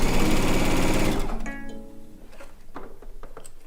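Sewing machine stitching a quilt seam for a blue and white quilt top, a fast, loud, close mechanical chatter for about a second and a half that slows and stops, followed by faint handling noises.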